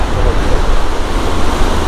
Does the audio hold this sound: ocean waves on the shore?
yes